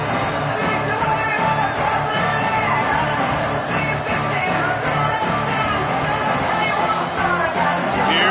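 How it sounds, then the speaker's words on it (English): A big stadium crowd in Happy Valley roars steadily on third down in the College Football 27 video game, during Utah vs Penn State, a loud dense wash with commentary voiced over it. "Comes the noise from this big crowd in Happy Valley on 3rd down."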